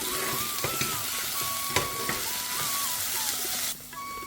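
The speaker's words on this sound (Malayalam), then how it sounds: "എന്നിട്ട് ഇതെല്ലാം കൂടെ നമുക്ക് നന്നായിട്ട് ആ ഒരു എണ്ണയിലൊന്ന് വാട്ടിയെടുക്കാം" Coriander powder and garam masala fry in hot oil for squid curry while being stirred, a continuous close sizzle broken by scraping spoon strokes and a few clinks, ending with a brief drop in the hiss.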